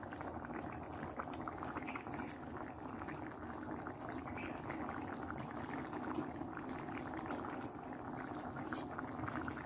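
Fish curry with potatoes simmers in a pot, giving a steady, soft bubbling and gurgling that continues evenly throughout without talk.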